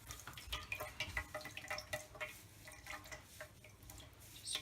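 Homemade calendula ointment is pressed through a sieve and drips out in small irregular ticks and drops, soft and close with no talk.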